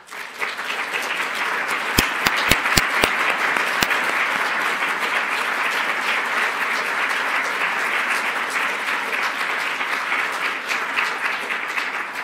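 Sustained applause from a large crowd at a science book event, steady and full throughout, with a few sharp louder claps standing out early on.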